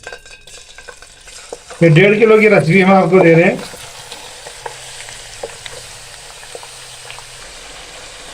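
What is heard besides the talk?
chicken frying in butter, stirred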